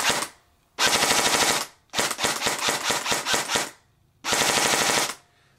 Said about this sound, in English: If you need to switch to full auto, you just keep squeezing the trigger and hold it down.